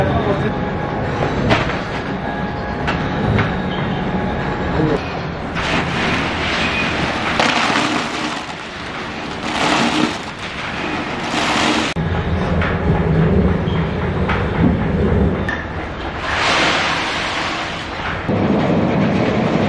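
A traditional groundnut shelling machine cracks peanut shells and separates the kernels at a wood-pressed oil mill, a loud continuous mechanical rattle and rumble with surging pulses, close by and steady throughout.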